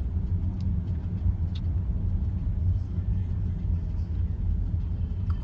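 Low, steady engine and road rumble heard from inside a car crawling through a heavy traffic jam, a constant muffled drone with faint, brief knocks above it.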